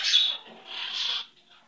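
A pet bird gives a fairly loud, raspy, breathy call close to the microphone in two drawn-out bursts, with a quieter tail after them and no talking.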